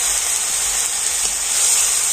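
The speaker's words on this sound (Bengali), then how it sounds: "অল্প একটু জল দিয়ে দিচ্ছি" Water hits hot masala of ginger-garlic paste and coriander powder in a pan for a Bombay duck fish curry. It makes a steady, loud, close sizzling hiss that holds evenly throughout, with no talk.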